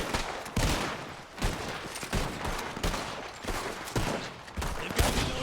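Rapid gunshots ring out in a Western roleplay game firefight with revolvers and rifles, sharp cracks repeating about every second at moderate distance, with no talking.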